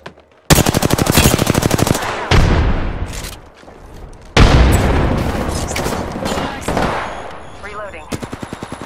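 Automatic gunfire rattles in rapid bursts in Apex Legends, broken by heavy booming blasts as a frag grenade goes off. Shots and explosions alternate loudly and close by for nearly nine seconds.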